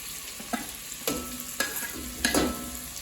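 Celery and onion aromatics frying in a pan, a steady sizzle with a few louder stirring scrapes spaced about half a second apart, close and alone.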